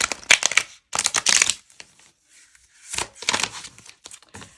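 Close-up riffling and snapping of a tarot card deck being shuffled in several quick bursts separated by short pauses, with no talking.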